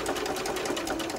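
A sewing machine stitches fabric in a steady, fast mechanical run, close and alone, with a presser foot and guide holding the cloth in place.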